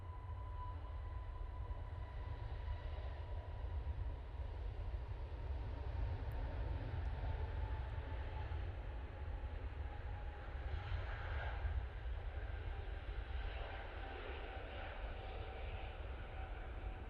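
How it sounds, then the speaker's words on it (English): A KLM Airbus A321neo departs Manchester Airport as a steady jet roar, broad and continuous throughout, holding fairly constant at moderate distance with a faint tonal whine running through it. "off to Amsterdam we go with this beautiful KLM A321 Neo"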